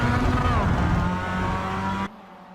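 Mazda race cars at Laguna Seca in iRacing, a loud steady engine drone with rising and falling whine through the final corners that cuts out abruptly near the end, with a voice talking over it.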